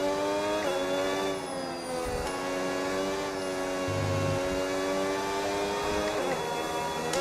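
A race car engine in a racing video game drones loud and steady under hybrid boost, its pitch holding high with slight rises and dips throughout.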